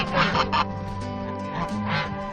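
Several geese honk and call over one another nearby, loud harsh cries repeating in uneven bursts, with steady background noise underneath.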